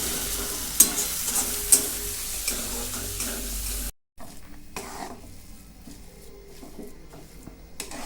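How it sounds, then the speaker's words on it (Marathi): Mixed vegetables frying and being stirred in a pan at home, a soft continuous sizzle with a couple of sharp scraping clicks from the spatula, broken by a brief cut, then quieter frying and stirring. "तर मग आता मी आहे ते सगळ्या भाज्या घातल्या त्याच्यात फ्राय करते."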